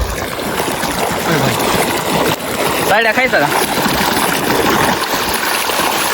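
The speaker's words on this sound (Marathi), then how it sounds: "पाणी पण चालू झालंय" Irrigation water runs through a farm field with a steady rushing flow, loud and continuous, while a person speaks briefly over it.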